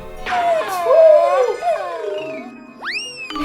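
A cartoon dog from a children's animated episode howls and whimpers in long, sliding wails that rise and fall, followed by a brief upward-swooping squeal near the end, heard clearly with no talk.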